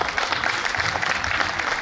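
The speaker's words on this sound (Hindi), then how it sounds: "ताली बजाइए, मैं अपना काम लगाता हूं।" Steady audience clapping at a Hindi comic poetry gathering, a dense even patter of many hands holding at a constant level throughout with no voices over it.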